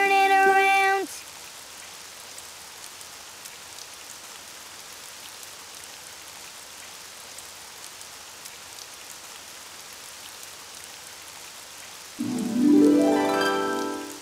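Steady, even rain patter from the Daniel Tiger's Neighborhood children's game runs throughout, soft and continuous, with brief bursts of musical tones at the beginning and end.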